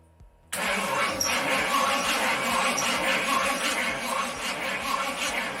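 A car engine cranks steadily with a rapid, rhythmic churning from a weak battery and never catches, loud and close in a garage for about five seconds with no talking.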